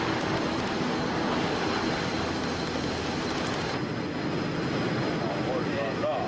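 Airbus A380 airliner diving at high speed during a flutter test flight, a loud steady broadband roar of wind and engines filling the whole stretch without a break, with faint talk beneath it.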